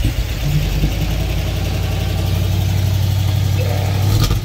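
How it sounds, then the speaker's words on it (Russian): A GAZ-66 truck engine roars loudly and steadily up close, warming after a cold start, its deep rumble swelling in pitch as it revs near the end. "Ох, ревет машина."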